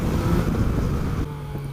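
Engine of a Yamaha NIKEN three-wheeled motorcycle, a steady close drone heard while riding, with wind rush over the microphone and a slight drop in level near the end.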